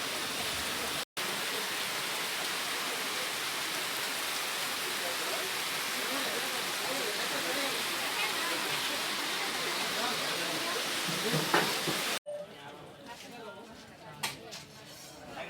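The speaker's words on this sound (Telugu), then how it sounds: "అప్పుడు వర్షం అనేది స్టార్ట్ అయింది. సో మేము హాయిగా వర్షంని ఎంజాయ్ చేస్తూ తింటున్నాం." Rain falls steadily during a family village festival gathering, a loud dense hiss filling most of the stretch before cutting to quieter scattered sounds near the end.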